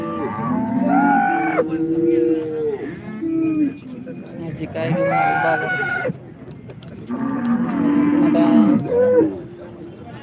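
Cows at a busy cattle market low repeatedly in long, drawn-out moos, several overlapping calls spread across the clip, with someone speaking briefly among them.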